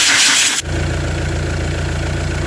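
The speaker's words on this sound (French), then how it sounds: "On va démarrer le moteur." A Citroën Xantia 2L HDi diesel engine fires after a brief burst of starter noise, then settles into a steady, close, loud idle with no talking.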